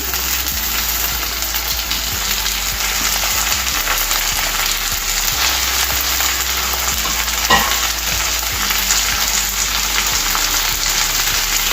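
Ginger garlic paste and tomato pieces frying in a pan for a mung bean sprouts curry, giving a loud, continuous hissing sizzle with occasional stirring clinks, close up.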